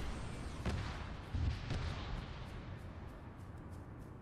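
Gunfire and distant booming explosions crack across a battle between Imperial Guard and Ork forces in ARMA 3, with a couple of sharp nearer shots over a continuous rumbling din that fades slightly toward the end.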